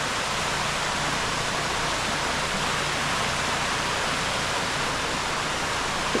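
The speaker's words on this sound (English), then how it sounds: "We got water running down the middle of the road." Floodwater from Hurricane Helene rushing down the middle of a mountain road in Green Mountain, North Carolina, a loud, unbroken roar like a torrent, steady throughout and close by, with no voices.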